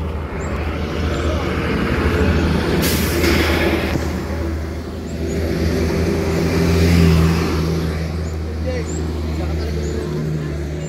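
A car engine revs and drones loudly and steadily, swelling a little in the middle and toward the end, while people talk and exclaim over it.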